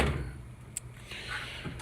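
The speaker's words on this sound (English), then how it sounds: "this is going to be my drawer for all my welding stuff" Drawer of a new tool box for welding gear, heard as a soft slide with a quick click near the middle and a second rolling slide toward the end, close by and fairly quiet.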